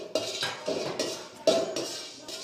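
Whole spices (cumin, cardamom, cinnamon, cloves) being dry-roasted in a pan for chicken biryani, heard as a rhythmic series of scraping, clinking stirs of a metal spoon against the pan, close and steady with no talk.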